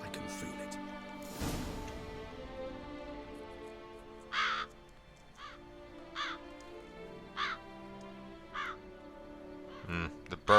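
Crows caw in The Witcher 3: Wild Hunt, a handful of harsh, separate calls spaced a second or two apart against a quiet game soundscape with a low musical hum, plus a brief louder burst early on.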